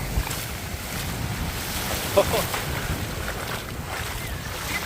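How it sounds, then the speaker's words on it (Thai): Steady wash of waves rolling onto the shore of clear blue sea at Chonburi, Thailand, mixed with wind buffeting the microphone, fairly constant with a brief bump midway. "โอ้นี่ทะเล"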